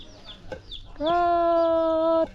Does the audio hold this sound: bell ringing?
no